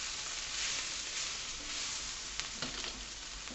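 Hot chili powder frying in oil for a four-bean chilli, a steady soft sizzle with a couple of brief sharper crackles and scrapes late on.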